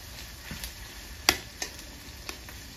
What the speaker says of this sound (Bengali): টমেটোটা 2 মিনিট পেঁয়াজের সঙ্গে করতে দেবো হালকা করে, বেশি লাল করে ভাজবো না